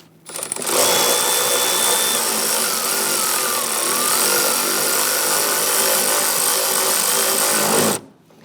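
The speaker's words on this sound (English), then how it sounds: "I'll go ahead and tighten down this bolt." Power tool whirs continuously for about seven seconds, loud and close, as a bolt is tightened down on a 2011-2021 Jeep Grand Cherokee 3.6L V6, starting and stopping abruptly.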